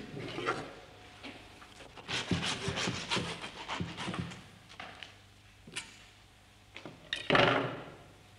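A butcher cuts up a carcass: repeated scraping and sawing strokes with knocks and rasps, a steady rhythmic cutting at close range, no talk.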